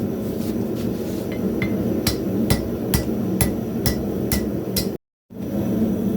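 Steady hammer blows ring out at the forge as a hand-forged skinning knife blade is straightened and its tip finished. About eight sharp, evenly spaced strikes sit over a constant roaring background, which cuts out briefly near the end.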